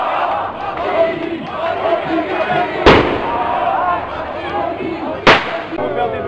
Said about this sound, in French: il y a eu des feux d'artifice qui ont été tirés parce qu'ils ont visé un drone